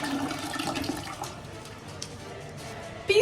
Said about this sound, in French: J'ai relancé la chasse d'eau, on va voir s'il va partir.